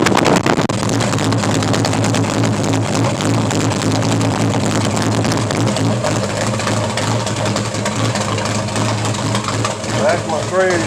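A Chevy 383 stroker V8, a 400 block with a 350 crankshaft, runs after a cold start, a steady loud low rumble with a lumpy idle throughout.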